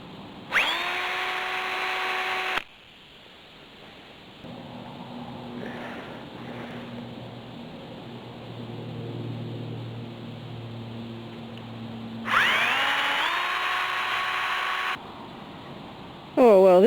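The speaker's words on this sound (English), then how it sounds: "So now I'm going to drill." A power drill bores into a tree, whining in two loud bursts, revving at start and again later, with a quieter humming stretch and faint voice between.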